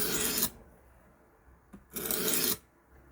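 A knife blade is drawn across a 220 grit diamond stone on a WorkSharp Precision Adjust sharpener, making two separate close raspy strokes with a short quiet gap between them.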